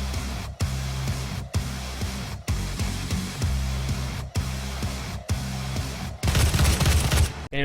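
Gunfire in the video game Doom pounds in rapid repeated bursts with brief gaps, loud and dense, with a harsher, noisier blast near the end and no talk.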